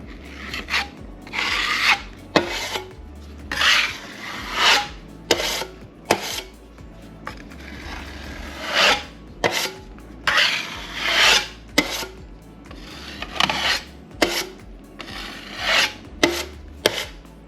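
A drywall knife spreads a thin coat of joint compound over a drywall repair, with repeated rasping, scraping strokes in an irregular rhythm, close and steady, over a low background hum.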